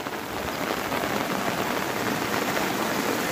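Heavy rain pours down over farm fields during a thunderstorm, a dense, steady hiss of drops hitting the ground with no break and no voices.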